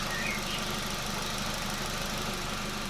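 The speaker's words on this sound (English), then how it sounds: "that is one quiet engine." Engine of a GWM Haval Jolion idling quietly, a smooth, steady low hum with faint mechanical ticking, close and unchanging, with no voices.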